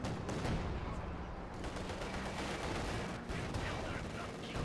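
Heavy cannon fire from a T-34 tank in Company of Heroes 2, a deep booming shot within dense battle noise, gunfire and explosions continuing throughout at close range.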